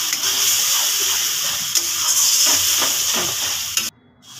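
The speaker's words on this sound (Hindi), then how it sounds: "अब मैं इसमें प्याज और टमाटर का भी पेस्ट डाल देती हूँ और इसे भी अच्छे तरह से भूनूंगी" Onion and tomato paste fries in masala for a Bihari-style fish curry, giving a steady, loud sizzle with occasional stirring scrapes before it cuts off abruptly.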